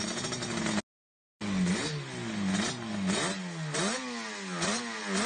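A Suzuki RG500 two-stroke road bike engine revs hard in repeated rising and falling bursts, loud and close, with a brief silent gap near the start.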